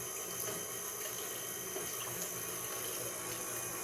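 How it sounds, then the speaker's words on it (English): Whole milk pouring from a container into ricotta pancake batter in a bowl, a steady close liquid rush that runs without a break for several seconds. "Next, we're going to add in the milk. So the milk is 1½ cups of whole milk, she says. So we're going to pour that in."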